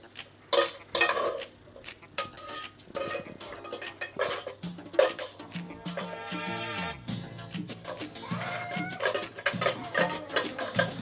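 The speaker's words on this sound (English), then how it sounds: "So now I'm gonna add the cake mix into the pan." Date and walnut cake batter goes from a bowl into a baking pan, with a steady run of clinks, scrapes and knocks from a utensil against the bowl and pan, close by and with no talking.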